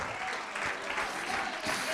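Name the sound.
church congregation applauding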